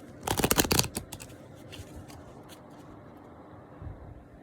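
A tarot deck gets a quick riffle shuffle, a close, crisp burst of fluttering card snaps lasting under a second, then a few soft card taps and handling noises in a quiet room.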